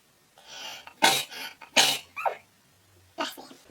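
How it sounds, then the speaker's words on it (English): A person sneezes up close with a couple of loud, sharp bursts and breathy intakes of air before and between them, followed by a quieter snort. "I'm gonna sneeze now."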